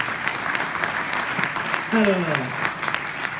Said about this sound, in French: Voilà, on peut applaudir ces candidats.